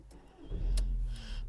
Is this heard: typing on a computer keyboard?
no